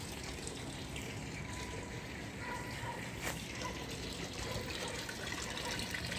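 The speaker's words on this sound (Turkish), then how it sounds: "Şurada çok güzel akan bir suyumuz var." Water runs steadily from a fountain at the Muradiye tombs in Bursa, a continuous, even splashing wash that holds at a moderate level throughout with no talk over it.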